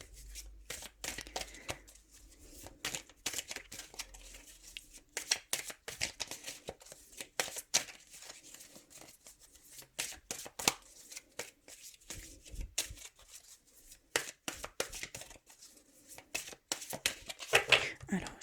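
Oracle cards shuffled and cut by hand up close: a long run of crisp, rapid flicks and slaps in uneven clusters, with a voice faintly present in places.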